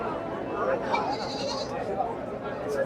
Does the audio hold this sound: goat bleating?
yes